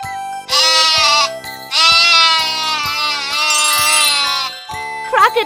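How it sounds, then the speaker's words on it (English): Sheep bleating in several long, wavering, loud calls one after another, close up, with a short jingling tinkle and a higher cry near the end. "Sheep."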